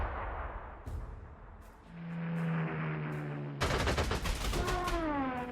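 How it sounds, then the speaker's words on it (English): Anti-aircraft guns in the WW2 strategy game Panzer Corps 2, a burst of rapid cannon fire that breaks in loudly after a quieter stretch of droning engine noise. "Oh, the anti-aircraft guns."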